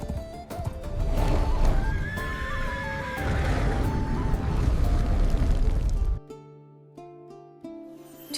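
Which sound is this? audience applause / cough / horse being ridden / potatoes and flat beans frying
horse being ridden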